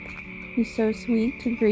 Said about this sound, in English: It is thousands of frogs from the water.